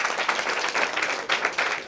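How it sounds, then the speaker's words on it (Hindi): Dense, steady applause from an audience at a competition held at a Buddhist vihara in a Maharashtra village, honouring two girls; many hands clap continuously at close range with slight surges. "तो इस बच्चियों के लिए जोरदार तालियां हो जाए."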